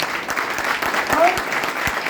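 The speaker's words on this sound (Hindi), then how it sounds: "जोरदार तालियां में।" Audience applause at a business leadership program in a hotel hall, dense continuous clapping from a crowd filling the short moment.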